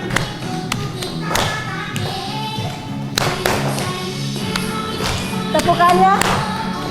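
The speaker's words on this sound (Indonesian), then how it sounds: "Tepukannya." A group claps together in a steady tapping rhythm during a positive-discipline teacher training session, with voices talking over the fairly close, sharp claps.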